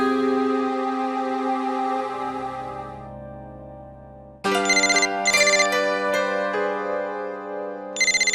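A telephone ringtone in a Hindi TV drama rings out alone, a steady melodic tone followed by a louder, brighter repeating ring pattern that pulses several times near and clear.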